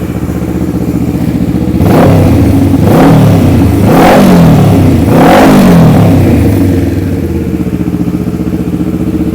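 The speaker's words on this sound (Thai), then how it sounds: "ฟังเสียงท่อกระป๋องกัน" A 2013 Kawasaki ER6n motorcycle with a canister exhaust pipe idles, then revs three times in quick succession, loud and close, before settling back to a steady idle.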